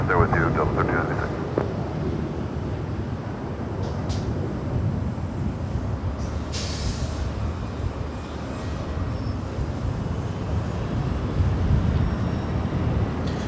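Delta airliner taking off from LAX runway 24 left, heard from a nearby parking garage: a broad, steady jet roar rumbles continuously, with wind buffeting and occasional radio chatter over it.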